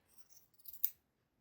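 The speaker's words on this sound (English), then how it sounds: "duck-billed scissors." Duck-billed scissors snip through fabric at a coverstitch hem, a couple of soft quiet rubs followed by one crisp close snip, with no talking.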